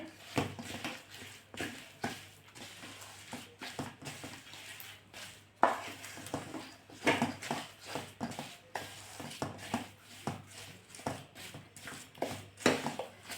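Half a kilo of jaggery being stirred and mixed into hot flour, giving a steady run of close scraping and rustling strokes with occasional clinks from the utensil, with no talk over it.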